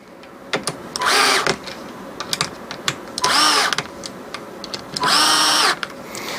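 A power drill driving and tightening four bolts on a metal heater fitted to a sprinkler head, three loud whirring bursts of about half a second each, separated by quieter clicks and handling noise.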